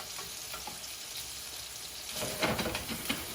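Paprika meatballs sizzle steadily in a crowded pan, a dense close frying hiss that swells louder with a few sharper spits and crackles toward the end; no talking.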